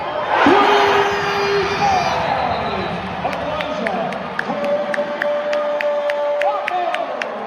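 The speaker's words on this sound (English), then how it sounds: "It got the crowd going" A basketball arena crowd cheers and whoops after an overtime shot, a loud burst that settles into a busy murmur with scattered clapping and sharp squeaks, with talk over the noise.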